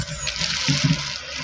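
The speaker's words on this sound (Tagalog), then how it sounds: "Maraming tubig." Water running from an opened tap at a rural home, a steady splashing trickle under faint background noise.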